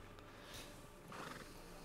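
A horse in the video game Red Dead Redemption 2 gives a short, faint whinny against a low steady background hum, with no talking.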